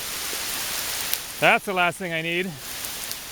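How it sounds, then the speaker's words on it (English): Heavy rain pours steadily in the wilderness at a campsite, a dense constant hiss throughout, with someone briefly speaking over it midway. "This is more than just a little rain. This is pretty serious here."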